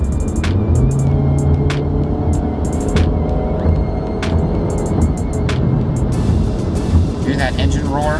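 A car engine roars with a low, throbbing rumble that rises and falls, heard close and loud with intermittent higher-pitched noises on top.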